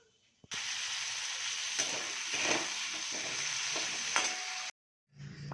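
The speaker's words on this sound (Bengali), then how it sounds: "তা মাছগুলো এবার আলুগুলো দিয়ে দেবো এর মধ্যে" Fish and potato pieces go into hot oil with whole cumin tempering, setting off a loud, steady sizzle with stirring scrapes across the pan, then a brief silence and a softer sizzle returning at the end.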